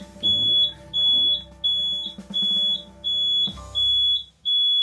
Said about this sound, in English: You wait for it to stop beeping?